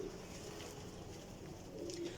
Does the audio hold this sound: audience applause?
no